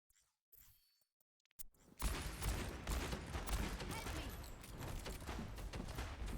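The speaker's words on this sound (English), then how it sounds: "Just keep popping shots into that Roadhog" Gunshots from McCree in the Overwatch video game, a dense clatter of rapid shots and impacts that kicks in after a near-silent opening of about two seconds and keeps going to the end.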